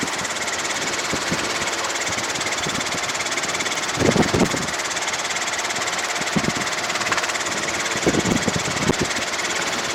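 Robinson R22 helicopter engine and rotor during a training flight, a steady loud drone holding throughout with a few brief louder bursts, no talk.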